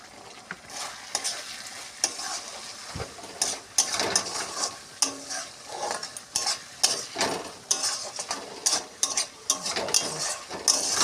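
Potol posto, pointed gourd in poppy-seed paste, simmering in a pan while a spatula stirs it: steady, close scraping and clattering strokes in a loose rhythm over a soft sizzle, with no talking.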